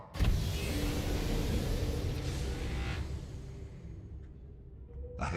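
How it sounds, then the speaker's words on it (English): A Subnautica submarine engine powers up in a steady, loud mechanical rumble with a rising whine that holds for several seconds, then fades before a short final surge, with no voices. "Engine powering up."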